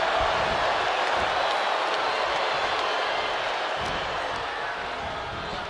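Arena crowd noise from a wrestling match in WWE 2K25: a steady, dense roar of cheering that holds throughout, with faint thuds underneath.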